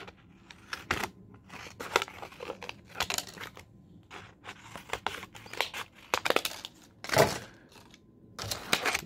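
Scissors snip through a recycled plastic bottle, producing irregular crinkly cuts and rustling plastic handling noises up close, with brief pauses between strokes.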